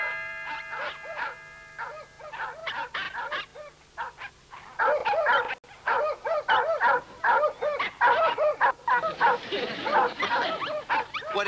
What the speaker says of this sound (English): It's a large dog.